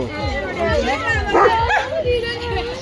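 Dogs yipping and barking at a pet and bird park, several short yelps and whimpers over a busy crowd with people talking nearby.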